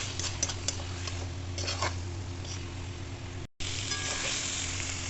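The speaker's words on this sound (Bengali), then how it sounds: "ভেজে রাখা আলুগুলো দিয়ে ভালো করে আরেকটু কষিয়ে দেবো আলু দিয়ে ভালো করে কষিয়ে দিচ্ছি" Fried potatoes sizzle steadily in hot oil with a spicy prawn curry, a close, continuous crackle with a few light clicks of stirring and a brief dropout near the end.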